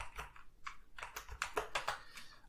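Rapid keystrokes clatter on a Sinclair QL computer keyboard, close and fairly quiet, in an irregular burst of clicks with no voices.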